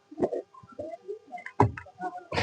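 Pigeons cooing in a pigeon colony housing many young birds, with several short, throaty bursts spread unevenly through the stretch, fairly close and clear, the last one broadening into a rustle.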